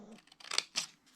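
Scissors snipping through paper folds while making a paper explosion box: two quick crisp cuts close by, fairly quiet, with a faint shuffle of paper around them.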